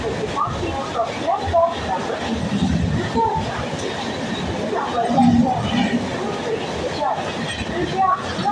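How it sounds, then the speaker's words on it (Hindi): A high-speed through train, hauled by a WAP-7 or WAP-4 electric locomotive, rushes past a station platform at Rishra. It makes a loud, continuous rumbling roar with rattling wheel clatter for the whole stretch. "2 नंबर प्लेटफॉर्म से थ्रू ट्रेन जाएगी।"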